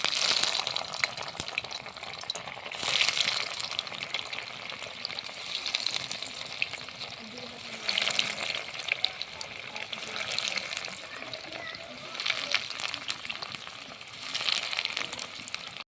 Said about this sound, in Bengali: চিকেন ফিঙ্গারগুলো তৈরি হয়ে গেছে তেলটা আমার দিয়ে রেখেছিলাম তেলটাও গরম হয়ে গেছে ছেড়ে দেবো